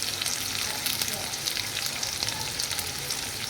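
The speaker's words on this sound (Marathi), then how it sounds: "आता आपण टाकणार कांदा या स्टेजवर." Onion sizzling in a pan over garlic for Marathi-style egg rice: a dense, continuous hissing fry without pause, close and steady throughout.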